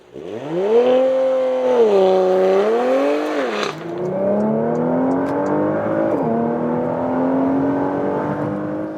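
A 2022 Porsche Macan GTS facelift on the German motorway, engine loud and close as it revs through a gear, drops briefly at a shift, then pulls steadily upward with a smooth whirring drone.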